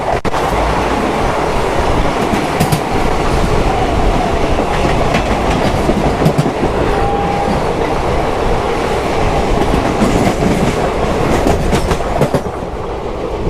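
The 14123/24 Intercity Express runs along the Kanpur–Lucknow rail line, a loud continuous rumble of the moving train with rhythmic wheel clatter over the rails and a brief faint squeal, heard from on board.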